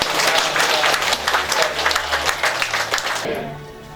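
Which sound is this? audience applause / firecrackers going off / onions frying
audience applause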